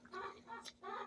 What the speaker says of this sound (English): the chickens are at the door.